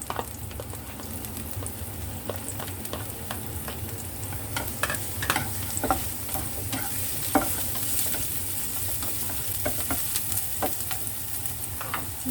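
Onion and garlic frying in a pan for a bitter melon stir-fry, a continuous close sizzle with frequent crackles and pops throughout.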